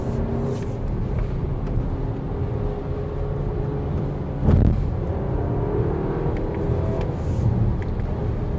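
A 2021 Audi Q3 Sportback Quattro drives back down a wet hill, its steady low engine drone and tyre rumble heard from inside the cabin, with a brief louder thump midway.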